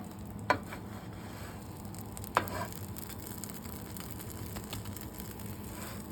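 A grilled cheese sandwich sizzles steadily on the grill, a soft, close, continuous crackle with two brief sharp taps near the start.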